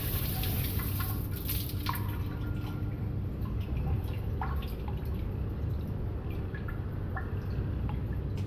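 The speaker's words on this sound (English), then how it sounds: "Have a shower." Running shower in the video game Deceived of Joy: a constant, near rush of falling water speckled with distinct drips and splashes, steady in level from start to finish, no talk.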